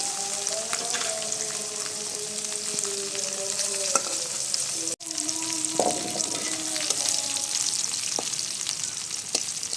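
Small mola fish frying in a pan, a steady close sizzle with faint crackles running throughout, broken by a brief dropout midway, with no talking.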